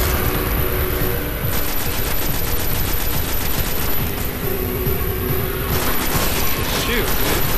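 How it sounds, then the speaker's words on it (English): An auto rifle in Destiny fires a sustained, rapid, loud stream of shots, clearest through the middle of the stretch, with a voice talking in the background. "let me switch to my auto rifle"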